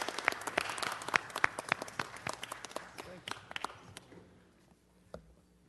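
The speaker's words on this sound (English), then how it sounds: "Let's give Mr. Cox a round of applause." Audience applause for muralist Anthony Cox at a Los Angeles City Council meeting: a burst of close, sharp claps that thins out and fades to quiet, with a last few scattered claps near the end.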